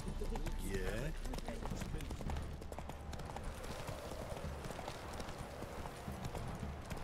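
Roach the horse galloping in The Witcher 3, a steady rapid clip-clop of hooves running throughout, fairly close and continuous, with voices talking over it.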